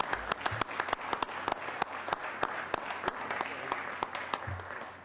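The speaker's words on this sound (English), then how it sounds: "I'd appreciate it if we can all give them a round of applause" Applause fills a legislative chamber, many hands clapping steadily and at a moderate distance, sounding like a dense, continuous patter with scattered sharper claps standing out across the five seconds, and no voices heard over it.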